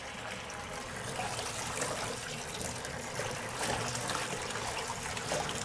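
Ice cold water runs into a kitchen sink being filled to soak a largemouth bass skin, a steady close trickling and splashing stream with no talk.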